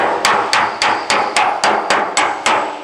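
A hammer strikes a dolly to work a dent out of an aluminum body panel, landing about ten crisp, evenly spaced metallic blows at a steady rhythm, close and loud with no talk.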